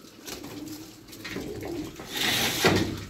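Pigeons coo softly in a loft with low, throaty murmurs, close by, along with faint rustling and a light knock near the end.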